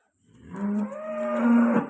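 A young Sindhi-Jersey cross cow gives a single drawn-out moo, close and fairly clear, rising slightly in strength before it stops, with no talking.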